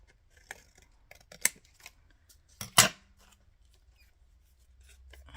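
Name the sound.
scissors trimming paper for a tag ephemera holder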